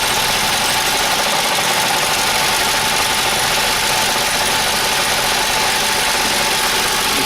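A Logan 14 metal lathe hums steadily while cutting with the feed cranked by hand, a constant, loud, even machine drone with no breaks.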